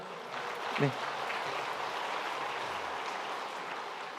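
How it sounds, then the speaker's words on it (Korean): A church congregation at a Sunday worship service claps in welcome for a young newcomer from Thailand, a steady, fairly soft wash of applause lasting throughout while a voice speaks over it. "우리 잠깐 자리에 일어나시면 우리 환영의 박수 드리도록 하겠습니다"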